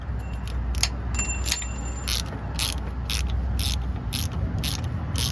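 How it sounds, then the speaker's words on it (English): A hand ratchet clicks steadily while fastening a part on a 2004 GMC Denali, about a dozen even strokes with a faint metallic jingle early on, close and alone over a low background hum. "Then now just fasten it with the ratchet."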